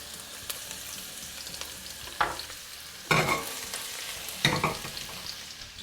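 Ginger and garlic hit a hot pan on high heat, giving a soft steady sizzle with several sharper crackling bursts as they are stirred, close and with no talk.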